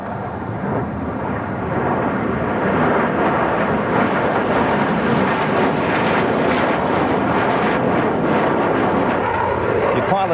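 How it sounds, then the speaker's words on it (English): An Australian F-111 fighter bomber passes over the Adelaide Grand Prix street circuit, a loud, sustained broadband jet roar that swells and holds for about ten seconds, with a commentator talking over it. "over the track here in Adelaide, is one of Australia's 24 F-111 fighter bombers"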